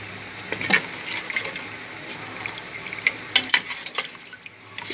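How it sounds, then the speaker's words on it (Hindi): About half a mug of water is poured into a cooking pot of frying aloo gosht, setting off several close bursts of sizzling and splashing over a hissing background. "तो अब हम इसमें पानी ऐड करेंगे आधा मग।"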